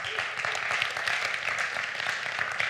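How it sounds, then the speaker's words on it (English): Conference audience at a hackathon sales talk gives a round of applause, a dense, even wash of clapping that holds steady throughout without voices. "Good job on the round of applause."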